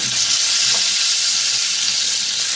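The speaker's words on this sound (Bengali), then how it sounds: "এপাশ ওপাশ করে মাছগুলোর দুইটা পাশই একদম লাল লাল করে ভেজে নিব" Large pieces of fish fry in hot oil in a pan, producing a loud, steady, continuous sizzle with no break.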